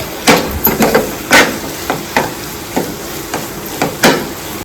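A spoon scrapes and stirs egg roast masala in a pan with garam masala, making about a dozen sharp scraping strokes at an uneven rhythm over a faint sizzle, close and loud.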